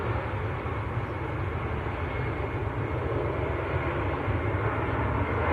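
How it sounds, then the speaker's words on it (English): A Cathay Pacific Airbus A350 jet taxiing at Manchester Airport, its steady engine roar holding loud and constant throughout with a low rumble underneath and no voices. "Cathay Pacific A350 is also on the taxi out at the moment."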